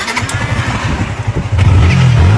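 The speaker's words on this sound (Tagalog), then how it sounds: "Ayusin mo nga tong motor, Kalbo. Ayaw na umandar." A motorcycle that had refused to start catches, idling with a rough rumble, then revs up louder and higher near the end of the short clip.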